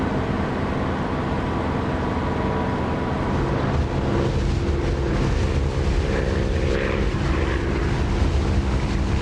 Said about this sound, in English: I like the sound of this engine. This is not the DCS Spitfire engine. This is Echo 19 Spit engine.